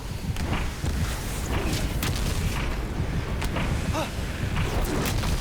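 Explosions ring out in God of War Ragnarok, a loud, continuous wash of booming blasts and crackling debris layered with game effects and brief voices, staying dense from start to finish.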